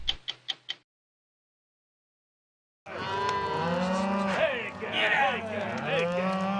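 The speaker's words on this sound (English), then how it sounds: "it's the longest-running cattle drive left in America" After four quick ticks and a pause, cattle on the Green River Drift, the longest-running cattle drive in Wyoming, moo loudly and close by, several long overlapping lows.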